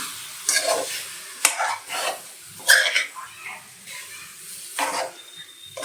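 Turmeric-and-salt marinated chicken is stirred in a dry kadai without oil, with several distinct scraping strokes over a soft, continuous sizzle, heard up close.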